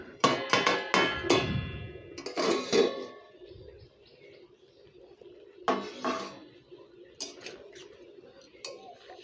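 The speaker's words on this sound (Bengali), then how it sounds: "ঢাকনাটা তুলে দেব" A lid lifted off a cooking pan while a brinjal and egg dish cooks, giving a few close metallic clanks and clatters in quick bursts, separated by quieter stretches of kitchen noise.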